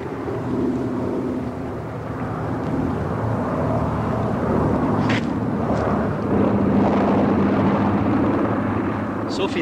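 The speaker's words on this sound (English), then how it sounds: "there was an airplane" Aircraft engine drone from a World War II bomber setting, a steady loud mechanical roar filling the whole clip with a slight swell toward the end, no speech over it.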